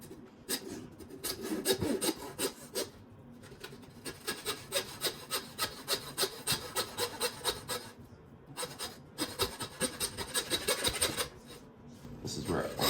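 A large handsaw cuts through the ribs and spine of a roaster pig with steady, rhythmic rasping back-and-forth strokes, close and fairly loud, briefly pausing midway.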